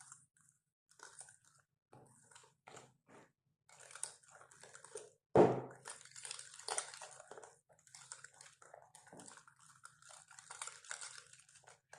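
Chocolate cake pudding batter being mixed by hand with a little warm milk in a bowl: soft, intermittent wet stirring and scraping, with one sharper clink midway, close by and without talk.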